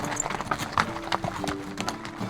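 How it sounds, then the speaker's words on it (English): Horses and mules walk along a mountain trail in Idaho's Sawtooth backcountry, their hooves making an irregular, overlapping clip-clop at moderate distance, fairly quiet, with no voices. "The horses and mules follow, carrying most of the gear and supplies needed for their adventure."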